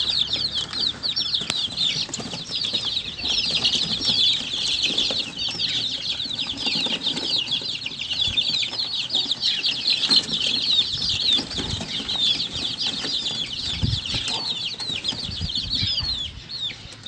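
Chickens and young chicks on a country poultry farm, a dense, steady bed of high peeping and chirping with scattered clucks and wing flutters running continuously throughout, fairly close and even in loudness.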